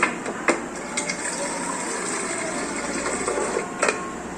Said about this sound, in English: fill it with water to the max line